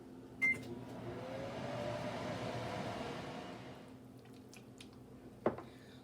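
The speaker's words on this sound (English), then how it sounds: "now I'm just going to microwave it" A microwave oven hums steadily as it heats caramel in short intervals, starting and stopping with beeps and a door clunk, close and quiet in a kitchen with no talk.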